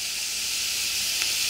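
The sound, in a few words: mustard seeds, urad dal, curry leaves, dried chillies sizzling in oil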